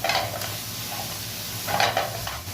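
Chicken breast sautés in a pan with a steady, close sizzle, broken by a few scraping stirs and light clinks of a utensil against the pan.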